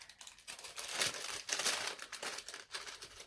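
Crinkly wrapping rustles up close as a mailed package from England is handled and opened, a continuous series of uneven scrunching bursts with brief pauses between them, and no one speaks.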